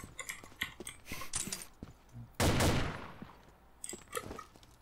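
Gunfire in the Combat Arms video game: quick bursts of close, snappy shots, with one louder, fuller blast about halfway through and scattered single shots after it. No talk is heard.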